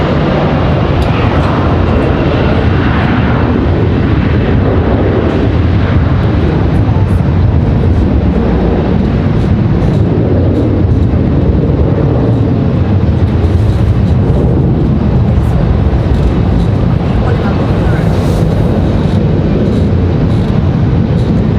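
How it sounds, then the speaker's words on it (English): A United Embraer E175 regional jet taxis and departs at Raleigh-Durham International Airport, its engines a loud, continuous broadband roar and rumble that holds steady throughout at a fair distance. "I think that's our United E175 ready to go."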